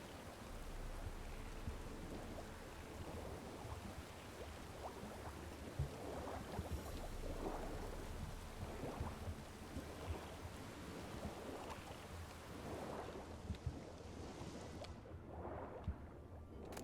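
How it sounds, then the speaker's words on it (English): Rain in the video game The Witcher 3: a faint, steady wash of rainfall hiss that continues unbroken throughout, with no distinct thunder. "Looks like rain."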